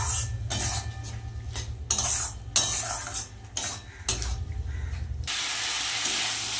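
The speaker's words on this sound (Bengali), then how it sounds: "সিদ্ধ করে রাখা মাংসগুলো কিন্তু আমি মশলার মধ্যে দিয়ে দিয়েছি এবার ভালো করে কষিয়ে নেব" Boiled country chicken being stir-fried in a red chili spice paste, a spoon scraping and clanking against the pot in uneven bursts over a low steady hum, ending in a loud continuous hiss.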